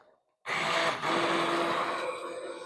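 A hand blender whirs loudly into life after a brief quiet start, a steady high motor buzz churning through pumpkin soup in a pot without pause.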